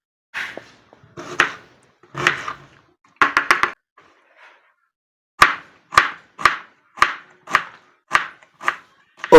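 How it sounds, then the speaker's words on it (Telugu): Knife chopping onions into small pieces on a cutting board, sharp close knocks in short bursts, first a few irregular clusters, then a pause and a steady run of single evenly spaced chops. "నేనైతే ఒక నాలుగు ఉల్లిగడ్డలు అయితే కట్ చేస్తానండి చిన్న చిన్నవి"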